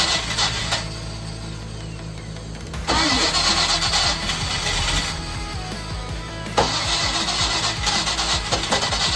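A 305 engine on a yacht, with water found inside it, cranks repeatedly without catching: a loud, steady starter churn runs in long bursts with short pauses between attempts, close and mechanical, with no voices.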